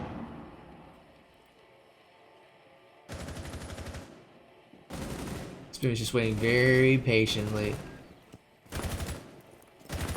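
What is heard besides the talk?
gunfire in the video game Rainbow Six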